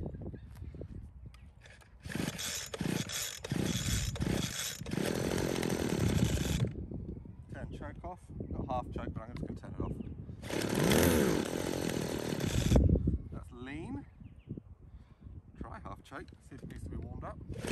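Small two-stroke engine of a 1990s USA-made hedge cutter, running lean after carburetor jet adjustment, revs in loud bursts with a buzzing chainsaw-like whine, dropping to idle between runs while someone talks over it.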